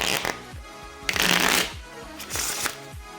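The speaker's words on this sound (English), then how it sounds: "Let's see if they'll shuffle." A deck of 24k gold foil plated playing cards is riffle-shuffled several times, with crisp fluttering bursts and soft taps as the cards are squared up.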